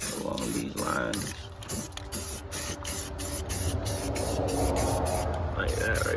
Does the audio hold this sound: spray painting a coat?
yes